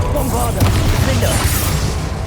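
A Bombarda spell explodes in Hogwarts Legacy as a loud, rumbling boom that fills the short moment with a heavy low roar and crackling debris.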